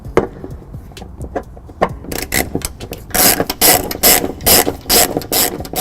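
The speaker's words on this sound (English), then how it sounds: "we're going to be using a 10mm socket to lower them down" A ratchet with a 10mm socket loosens bolts on the trunk pan of a 2015 Honda CR-V during a trailer hitch installation, giving close, rapid bursts of clicking that grow louder and faster.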